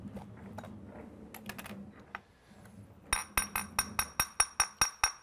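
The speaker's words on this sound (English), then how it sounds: "This is your Lock and Lock set of six round glass containers from our friends at Lock and Lock" Round Lock and Lock glass containers with their lids off clink against each other, first a few scattered taps over soft handling noise, then a steady run of about a dozen bright, ringing knocks, close and fairly loud.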